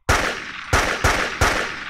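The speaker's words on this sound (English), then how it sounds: "a gunshot for me" Gunshot sound effect firing four sharp, loud blasts, each a sudden crack trailing into a brief reverberant tail, spaced unevenly in quick succession.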